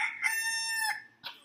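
A child imitates a rooster's cock-a-doodle-doo, a single drawn-out crowing call close to the listener followed by a short clucking tag, with no other talking.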